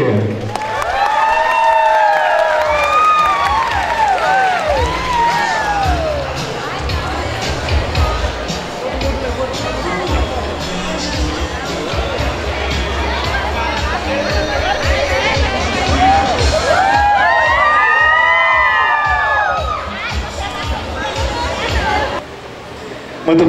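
Audience at a 2016 FAI Letras graduation ceremony applauds and cheers the graduates, a loud, sustained wash of clapping and crowd noise with whoops and voices throughout, easing off near the end.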